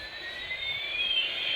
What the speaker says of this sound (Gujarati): આ હેલિકોપ્ટર ચાલી રહ્યું છે, પાકિસ્તાન ઉપર તરફ ઉડવા માટે જઈ રહ્યું છે